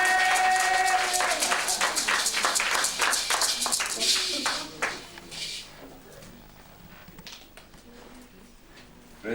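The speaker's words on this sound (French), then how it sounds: "Acclamez pour vous-même." Church congregation applauding itself after a sermon: loud, dense clapping that starts strong, then thins and fades over several seconds into scattered claps and murmuring.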